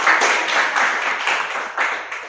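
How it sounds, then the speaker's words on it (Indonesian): A small crew behind the camera claps together in a steady, dense patter that holds for a couple of seconds, with a few louder swells and no voices. "Mungkin teman-teman yang belakang layar mungkin bisa beri tepuk tangannya lah"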